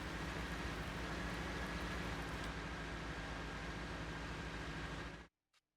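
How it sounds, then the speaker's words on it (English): Steady rain in Farming Simulator 19 during planting, a dense, even hiss of falling rain that holds constant and loud before cutting off abruptly near the end. "Planting in the rain."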